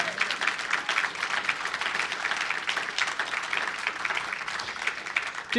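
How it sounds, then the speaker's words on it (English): Audience applause at a live Q&A session at a festival, a dense, steady wash of many hands clapping that stays loud and even throughout, with no one talking over it. "A round of applause for that"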